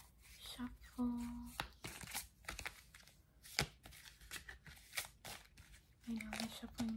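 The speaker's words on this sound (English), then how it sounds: "I know the shuffling method is not the best" Tarot cards are shuffled in repeated quick riffling bursts, close and crisp, with soft rustling between and a quiet voice murmuring at moments.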